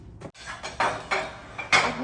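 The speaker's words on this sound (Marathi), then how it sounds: "तर आता आपण यात भांडी पण लावून बघूया." Steel dishes and utensils set one by one into a dish drying rack, a series of about five close, bright metallic clatters and clinks at uneven intervals, no talking.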